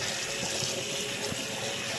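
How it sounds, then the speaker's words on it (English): Cold tap water pours steadily over cooked spaghetti in a kitchen sink, a continuous close splashing rush with no voices. "Now let's cool them off with cold water."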